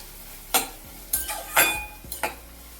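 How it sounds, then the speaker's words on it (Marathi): Capsicum cooking in oil and butter on high flame, heard as several sharp stirring scrapes and clinks against the pan over a low sizzle, spaced about half a second apart. "सिमला ही नेहमी भाजली जायला पाहिजे तेलामध्ये बटरमध्ये"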